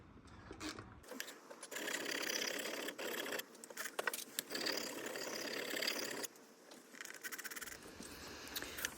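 A carving axe is honed on a wet 400 grit whetstone, a close, loud rasping scrape that runs in long strokes with short pauses and small clicks between passes, with no talking.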